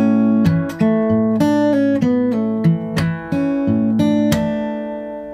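Electric guitar plays a lick with the slaps and bass notes left out: a steady run of clear, close plucked notes and chords in an even rhythm, played alone with no talking.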